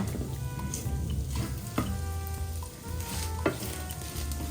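An egg sizzles and fries in a hot pan while a utensil stirs and scrapes it, giving a steady crackle with a couple of sharp clinks, close and fairly quiet, with no voices.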